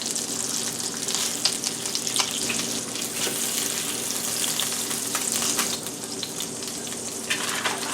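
Salisbury steaks browning in a frying pan give a steady, close sizzle with crackling spatters throughout, alone without voices.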